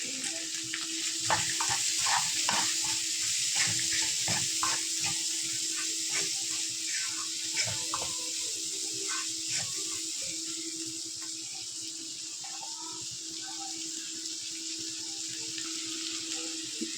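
Carrots and peas sautéing in a pan with salt and turmeric, a steady close sizzle with soft scraping stirs and clinks throughout, no voices.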